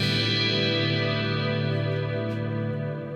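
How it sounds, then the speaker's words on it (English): Sustained electric guitar chord swelling into a wide, airy reverb wash that hangs and slowly fades, with no voices. "It's this beautiful airy reverb"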